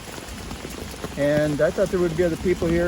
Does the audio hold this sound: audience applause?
no